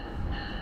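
A train pulling into a station in Canada, a steady low rumble and rolling roar close by with no break in the sound.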